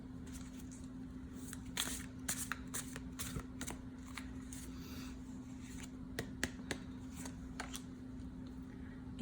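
Tarot cards being shuffled by hand during a reading, a close, quiet run of rapid riffling and flicking bursts with brief pauses, over a low steady hum and no talk.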